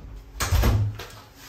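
A door in a house opens or closes with one muffled thud and a short scrape, close by, against quiet room tone.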